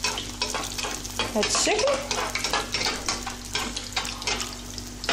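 Moroccan sfenj dough fries in hot oil, producing a strong, continuous bubbling sizzle close by with stirring scrapes, while a voice speaks briefly over it.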